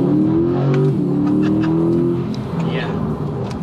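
A 2020 Chevrolet C8 Corvette, a high-performance car, pulls hard with a rising engine note that climbs and then levels off over a few seconds, loud and close, with brief voice sounds mixed in.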